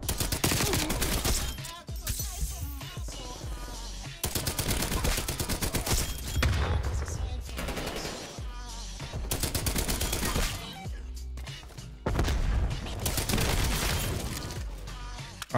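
Artillery strike explosions in the video game Call of Duty Cold War, a loud sustained barrage of booming blasts and gunfire in long dense bursts separated by brief lulls, no talking.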